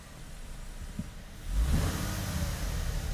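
Toyota Tundra engine with its sound enhancement switched on, a low cabin engine hum that grows louder and fuller partway through and stays rumbling, with no talk.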